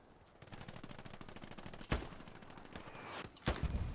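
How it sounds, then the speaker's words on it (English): In the World War II shooter video game Hell Let Loose, rapid small-arms fire crackles steadily while two heavy blasts from an artillery strike hit hard, one near the middle and one near the end. "artillery fucking nailed them"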